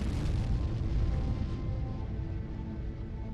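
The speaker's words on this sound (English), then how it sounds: "NORAD detects a massive explosion that rocks the Siberian wilderness." A massive pipeline explosion in the Siberian wilderness sounds as a deep, sustained rumbling roar that stays loud and dense throughout, then eases slightly toward the end, with no voices.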